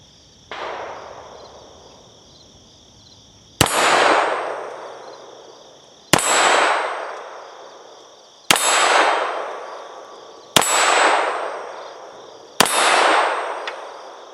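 Five evenly spaced shots ring out from a French Model 1935A pistol fired one-handed at a steel target. Each sharp crack brings a metallic clang and a decaying ring, over a steady background hum.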